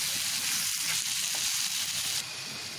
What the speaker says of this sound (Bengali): এবার আমি ভালোভাবে নেড়ে মিশিয়ে দিব